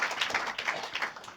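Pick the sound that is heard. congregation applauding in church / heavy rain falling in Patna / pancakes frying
congregation applauding in church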